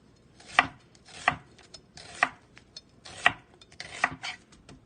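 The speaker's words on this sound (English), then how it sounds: "I'm just going to cut some slices off one." A knife cuts slices from an onion on a board: five crisp, close chopping strokes spaced about a second apart, with no talk.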